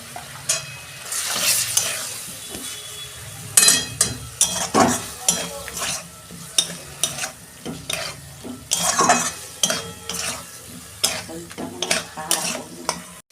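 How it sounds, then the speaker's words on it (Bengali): A spatula stirs and scrapes through cabbage and powdered spices sautéing in a pan for a fish-head cabbage dish, with close, uneven strokes and clinks over a steady sizzle. "এটা দিয়ে আমি ভালো করে একটু কষাবো।"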